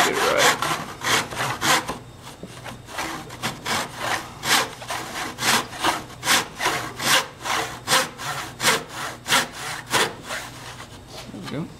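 Hand saw cutting a 45-degree angle through a wooden dowel in a miniature miter box, steady rhythmic back-and-forth rasping strokes, close and clear, speeding up slightly toward the end.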